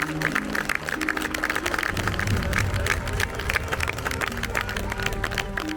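A crowd outside Buckingham Palace applauds as the Queen's state hearse arrives, with dense, continuous clapping and faint crowd murmur throughout.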